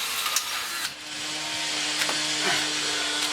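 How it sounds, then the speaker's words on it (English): A power drill bores a hole through a wood block for porch shade blind screws, with a steady close whine and gritty cutting noise throughout. "drill a hole through the wood for the screws to go through"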